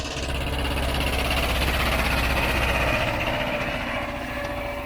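A tractor pulls a Polish seed drill sowing winter wheat into unploughed ground, its engine a loud, steady, close drone with rapid mechanical vibration and no pause throughout.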